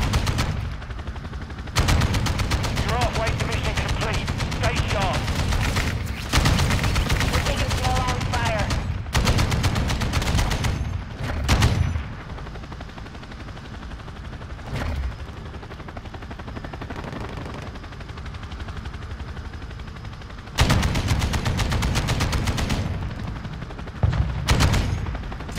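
Chopper gunner helicopter in Call of Duty: Modern Warfare II firing long, loud bursts of rapid gunfire, broken by short pauses and a steady rotor-like rumble, with excited talk over it.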